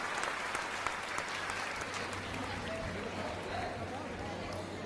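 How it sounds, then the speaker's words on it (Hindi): Sustained applause from an audience at a religious discourse, dense and even throughout, with faint voices mixed underneath. "एक बार सभी लोग महाराज जी के लिए जोरदार ताली बजाएं"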